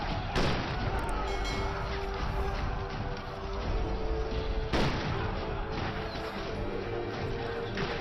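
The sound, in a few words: artillery fire in a film fight scene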